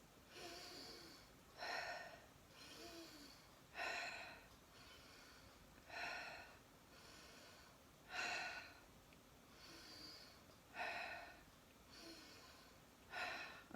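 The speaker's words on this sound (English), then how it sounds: "you're going to do 6 more deep breaths" Deep breathing exercise: a slow, steady series of about nine audible breaths, each a soft, airy inhale or exhale roughly every one and a half seconds, close and alone.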